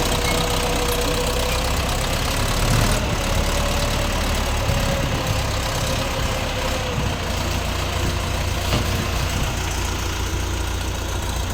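A four-cylinder Orion RF404 four-wheel-drive tractor idles steadily at close range, its engine knocking in an even, continuous low chug with a faint tonal whine riding over it throughout.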